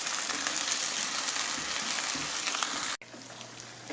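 Chicken pieces coated in ginger garlic paste sizzle and fry steadily in hot oil for a karahi, a loud, continuous crackling hiss that cuts off briefly near the end before resuming more quietly.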